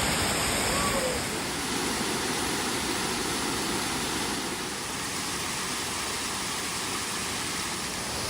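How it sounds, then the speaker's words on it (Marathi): Waterfalls at the foot of Rajgad fort in the Sahyadri hills, a steady broadband rush of falling water filling the whole stretch, fairly close and constant in level, with no other sounds standing out. "राजगड किल्ल्याकडे जाताना पायथ्याशीच आपल्याला हे सुंदर धबधबे पाहायला मिळाले."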